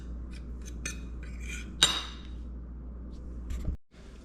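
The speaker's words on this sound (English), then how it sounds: "Take a fork or a whisk or whatever, you prefer to use, and just mix it around real good" A fork clinks and scrapes against a bowl while mixing frying batter for frog legs, a few sharp metallic taps amid soft stirring, close and clear with no voices.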